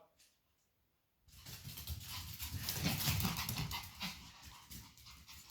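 Pomeranian spitz dogs pant heavily and rapidly after energetic play, a continuous breathy rasping that starts abruptly after a short silence and stays loud and close.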